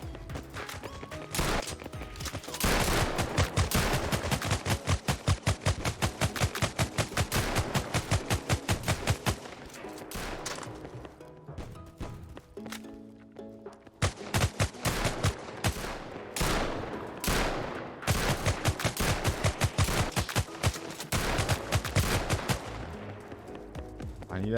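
Gunfire in the WarFi first-person shooter game comes as rapid bursts of automatic fire, loud and nearly continuous, with a short lull about halfway through.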